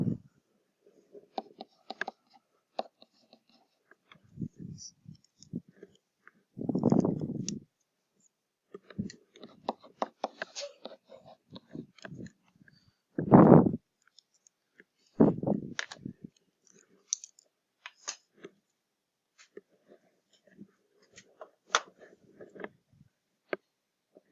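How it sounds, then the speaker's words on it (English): Students in a classroom tap calculator keys during an algebra practice test, giving scattered light clicks and taps that come and go over about twenty seconds, with a few louder bumps and rustles in between. "I hear people clicking the calculators already."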